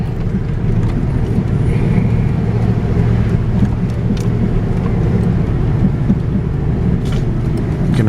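A vehicle climbs slowly over rough ground and sandstone formations on a rural acreage tract near a wildlife area, its engine a steady, close, low rumble that holds evenly throughout with no talk.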